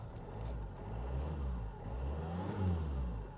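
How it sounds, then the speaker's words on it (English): A Range Rover Evoque engine, bought salvage from Copart with a bodged repair and its airbox unplugged, revs up in a few rising and falling swells over a low steady rumble, close by with no talking. "it's revving up"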